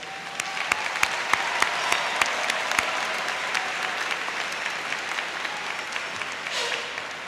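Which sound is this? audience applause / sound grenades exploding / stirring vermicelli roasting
audience applause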